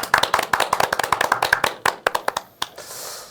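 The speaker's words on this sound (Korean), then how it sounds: "박수 한번 치겠습니다." A small group claps in a quick, steady rhythm during a live startup-hub talk show in Seoul, a couple dozen crisp near claps that thin out into a few stragglers and then stop.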